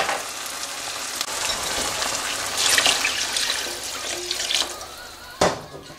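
About one and a half cups of water pour into a pot of soaked rice for soya chunks biryani, a loud splashing gush with a few brief surges and a sharp clatter near the end, no talking.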